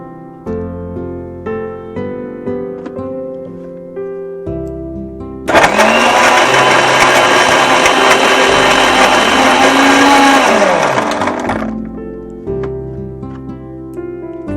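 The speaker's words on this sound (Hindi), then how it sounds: "तो डाल देंगे हम चीकू और इसे दोबारा से कर लेंगे ब्लेंड।" An electric blender whirs loudly through a chikoo and ice mixture, starting abruptly, running steadily for about six seconds, then winding down, with music playing before and after.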